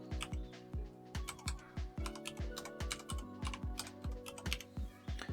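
Rapid keystrokes on a computer keyboard while a password is entered during Raspberry Pi 5 setup, a steady run of close, crisp clicks about four per second with no talking.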